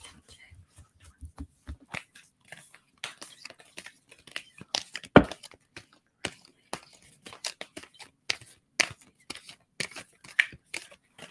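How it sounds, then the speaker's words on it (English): Thick crystal tarot-style cards being shuffled by hand, a dense run of crisp clicks, slaps and rustles in irregular bursts, close and fairly quiet, with one sharper snap midway and no talking. "I love these crystal cards, but they're really thick and hard to shuffle"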